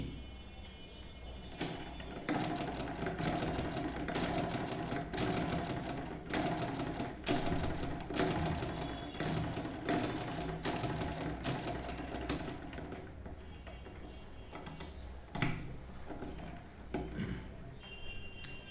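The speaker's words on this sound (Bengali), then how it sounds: "প্রথমে আমরা সেলাই করে দেখছি যে মেশিনের সমস্যাটা কী" A sewing machine stitches fabric in quick rhythmic bursts of rapid clattering, near and steady, pausing briefly between runs, while a person talks over it; the machine has a faulty upper stitch that puckers the cloth.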